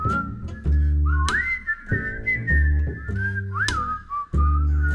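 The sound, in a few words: audience whistling at a live concert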